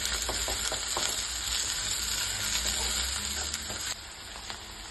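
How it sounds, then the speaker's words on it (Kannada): Green peas fry in a hot pan for aloo palya, a dense, steady sizzle close up with light stirring scrapes, easing slightly toward the end, with no voices. "ಅದಕ್ಕೆ ನೀವು ಹಾಕೊಂಡ್ಬಿಟ್ಟು ಸ್ವಲ್ಪ ಫ್ರೈ ಮಾಡ್ಕೊಳ್ಳಿ."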